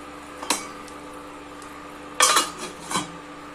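Besan bhurji made from gram flour being stirred in a pan with a metal utensil, with a few sharp scrapes and clinks against the pan over quiet background, and no voices.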